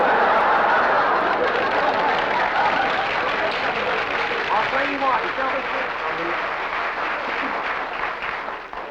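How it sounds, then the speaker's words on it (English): An audience at a comedy show applauds and chuckles while someone speaks over the clapping, which starts loud and gradually thins out. "I got to hear that deafening applause way over here"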